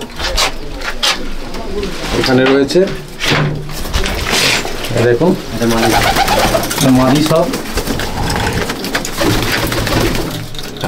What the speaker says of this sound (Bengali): এখানে সব পায়রা আছে